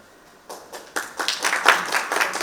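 An audience at a travel industry panel breaks into applause as a panelist is introduced, starting with a few scattered claps and quickly swelling into steady clapping from many hands.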